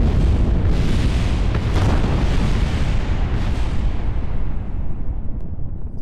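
Rocket engines throttling up in the video game Kerbal Space Program give a loud, continuous roar that holds steady for about six seconds.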